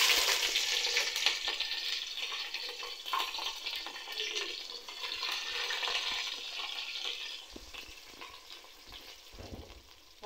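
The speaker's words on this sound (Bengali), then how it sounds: "এখন আমি দিয়ে দিব পেঁয়াজ কুচি।" Chopped onion dropped into a hot pan with cumin while cooking cow trotter nehari, a loud close sizzle that crackles densely at first and then settles into steadier frying with occasional stirring, no voices.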